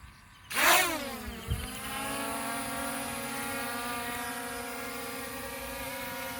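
ZLL SG901 Pro Max FPV drone motors spin up on takeoff with a sharp rising burst, then settle into a steady, close, high-pitched buzzing whine that holds to the end.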